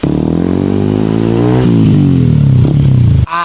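Motorcycle engine revving hard and close, a loud sustained whine that climbs and falls in pitch, then cuts off abruptly near the end.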